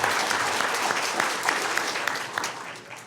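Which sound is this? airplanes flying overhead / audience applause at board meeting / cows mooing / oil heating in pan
audience applause at board meeting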